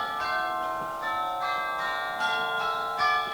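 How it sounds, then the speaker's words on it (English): Church bells ring out on Christmas Day, a series of bright repeated strikes roughly every half second, each chime's overtones ringing on into the next, fairly faint and with no speech. "Merry bells! It was Christmas Day!"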